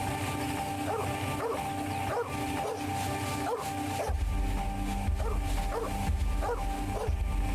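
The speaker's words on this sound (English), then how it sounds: "It would have been alright but for the infernal dog." Dog barking in the PC video game The 39 Steps, a run of repeated barks at a steady rhythm over a loud, dense game soundscape, with a heavy low rumble joining partway through.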